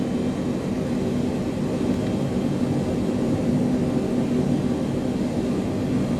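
Boeing 777 jet engines in Microsoft Flight Simulator 2020 run at a steady low roar while the airliner taxis toward the runway, a constant, loud, even drone throughout with no talk.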